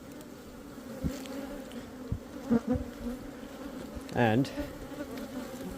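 Honey bees buzz around an open beehive during an inspection, with a steady hum and several louder passes of single bees close to the listener. A word is briefly spoken.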